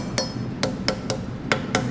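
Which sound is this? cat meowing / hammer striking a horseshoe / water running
hammer striking a horseshoe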